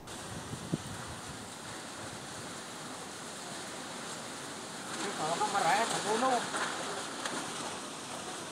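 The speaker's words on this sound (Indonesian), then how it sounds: "Beginilah peristiwa angin puting beliung yang berhasil direkam oleh salah satu warga" Tornado winds roaring in Kelurahan Pagar Kukuh, Pekalongan, as a steady, dense rush of broadband noise that swells louder and gustier about two-thirds of the way through.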